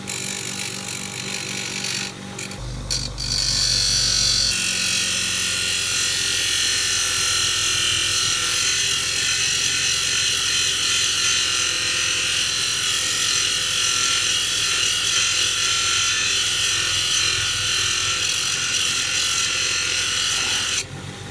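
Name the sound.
small grinder grinding a paint roller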